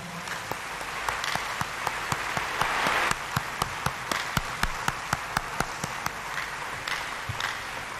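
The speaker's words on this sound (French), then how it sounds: "Sous nos applaudissements" Audience at a memorial thanksgiving service for Laurent Désiré Kabila and Patrice Emery Lumumba applauding, a crowd wash of clapping punctuated by sharp, regular individual claps standing out near the listener.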